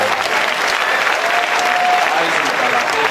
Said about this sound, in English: Please, another round of applause for